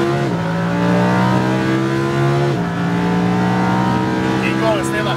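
A Lamborghini Huracan accelerating at full throttle on a track at Speed Vegas, the engine note climbing loudly through an upshift and on, heard from inside the car with a voice talking over it.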